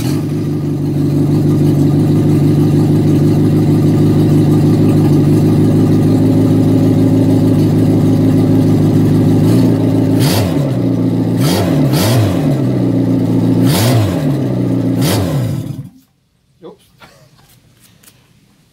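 A car engine, set up on a garage floor, runs loudly and steadily, then revs up several times in quick bursts before cutting off abruptly, leaving near silence.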